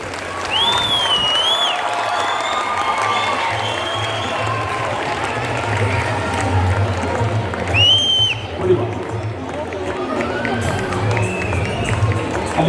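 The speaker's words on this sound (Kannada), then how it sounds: "ಈಗ ಹುಡುಗರು ಚಪ್ಪಾಳೆ ತರ್ತಾ ಇದ್ದಾರೆ" Children at a school prize distribution for a state-level Yakshagana-based competition clap continuously through a busy hall, with crowd murmur, some shouts, and a few brief voices over the applause.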